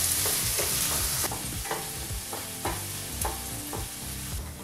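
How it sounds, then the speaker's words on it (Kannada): Onions frying on a low flame for a chicken gravy, with a steady close sizzle and several spatula scrapes and stirs spaced through it, no voices. "ಈಗ ಲೋ ಫ್ಲೇಮಲ್ಲೇ ಈರುಳ್ಳಿನ 4-5 ನಿಮಿಷ ಫ್ರೈ ಮಾಡ್ಕೋಬೇಕಾಗತ್ತೆ."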